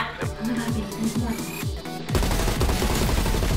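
Gunfire in the video game Call of Duty Cold War Zombies: a run of rapid, loud shots with falling tails, then a dense, sustained barrage of heavy firing.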